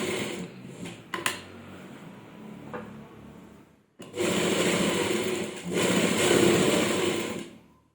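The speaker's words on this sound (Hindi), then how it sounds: "और यहाँ पर सिलाई लगाएंगे।" A sewing machine stitches a pleat on a salwar, giving two bursts of fast, steady mechanical whirring after a few handling clicks and knocks, the second run following a short pause, close and clear.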